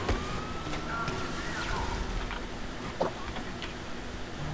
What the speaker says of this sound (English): there's fucking two police cars trying to murder me